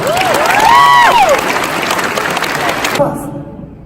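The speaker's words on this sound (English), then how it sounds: "Give yourselves another round of applause" A crowd at a political gathering claps loudly while cheers and a raised voice rise over the noise. The applause stays full and close, then cuts off abruptly near the end.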